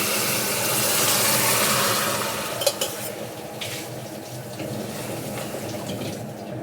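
Boiled vegetables with their cooking water pour and splash steadily into a pan, with a brief metallic clink midway and soft kitchen clatter; no one speaks.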